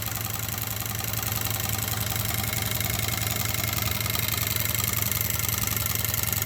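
A small hot air engine runs at high speed, around 12,500 RPM, giving a continuous, even, buzzing whir with rapid mechanical ticking throughout, close and fairly loud with no talking.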